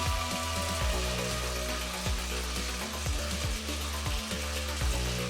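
Olives being rinsed in water, a continuous patter of splashing and dripping, close and fairly loud, with a low hum and rhythmic swishes running through it.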